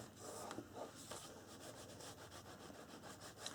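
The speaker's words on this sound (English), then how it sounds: "And then of course you want to burnish and make sure it sticks in really good" A paper pocket is burnished onto a calendar album page, producing faint, close rubbing strokes in an irregular back-and-forth rhythm.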